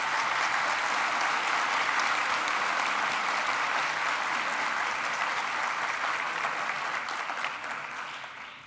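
Sustained applause from a graduation ceremony audience at a university, steady dense clapping filling the hall for several seconds before gradually tapering off toward the end, with no voices over it.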